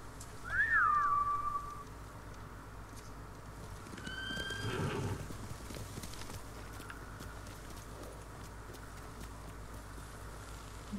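Horses whinny in a samurai video game, a loud neigh near the start and a second call midway, with faint hoof clops and wind over a quiet background.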